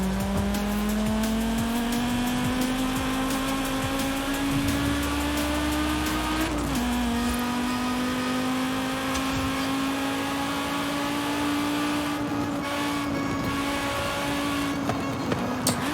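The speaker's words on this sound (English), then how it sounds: "Out of curiosity, Shadow, I imagine this engine could sound pretty nice going through your surround sound system." A Nissan Safari engine in Forza Horizon 5 drones steadily for the whole stretch, its pitch slowly climbing with a brief dip midway, loud and continuous with occasional tire noise and no talking.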